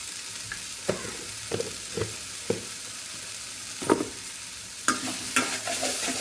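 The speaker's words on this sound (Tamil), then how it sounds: "நல்லா மிக்ஸ் பண்ணி விட்டு கொஞ்சம் நேரம் அந்த மிளகாய் தூள் இதெல்லாம் வந்து நல்லா சேர்ந்து வர அளவுக்கு நல்லா வதக்கிட்டு ஃப்ரை பண்ணிவிட்டு" Okra stirred and fried in a pan with chili powder, a steady close sizzle broken by repeated scraping knocks of a spoon against the pan, alone without talk.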